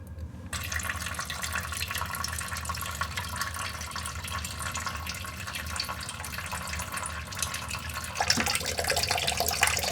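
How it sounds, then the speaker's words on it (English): Water drains from a detached toilet fill valve hose into a bucket underneath, a steady hissing trickle with a splash that grows slightly louder toward the end. "you'll get some water draining out right here into a bucket or a bowl underneath"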